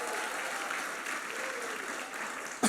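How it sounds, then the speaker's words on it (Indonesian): An audience in an Indonesian church worship service claps steadily and evenly throughout, a moderately loud wash of applause from a crowd with faint voices underneath. "Beri tepuk tangan yang luar biasa."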